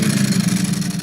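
A Ducati motorcycle engine idles in a garage, a loud, steady low rumble with a fast pulsing beat throughout.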